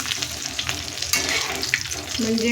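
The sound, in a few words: alu vadi frying in hot oil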